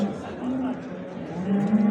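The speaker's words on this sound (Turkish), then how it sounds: "Şurada bir düve var." A heifer at a livestock market moos in a low, drawn-out call lasting the whole moment, loud and close, rising slightly toward the end.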